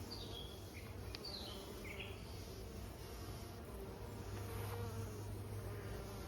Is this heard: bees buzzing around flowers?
yes